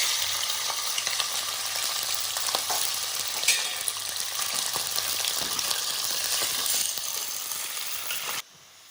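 Boneless skinless chicken pieces frying in oil in a pan, giving a loud, dense, continuous sizzle with occasional stirring scrapes, heard up close, cutting off abruptly at the very end.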